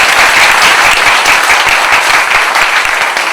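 Dense, loud applause from a large audience at a spiritual meditation talk, sustained steadily throughout with no pause.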